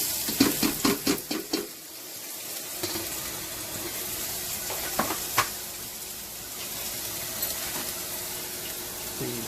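Onions sautéing in about two tablespoons of cooking oil in a pot, a steady low sizzle following a few quick clattering knocks at the start, with occasional light clinks over the hiss.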